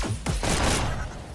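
Shotgun blasts in a VR shooter game: two or three heavy, booming shots in quick succession, loud and close, with a long ringing tail and no talk over them.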